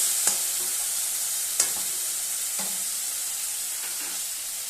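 Spices and chopped tomato sautéing in a pan for a fish curry, a steady sizzle and fry throughout with a few sharp spatula scrapes and stirring knocks, close and fairly quiet.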